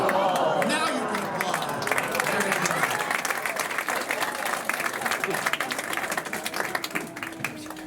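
A magic club audience bursts into applause after a trick, loud clapping and crowd noise that starts strong and thins into scattered claps, with a voice talking over it.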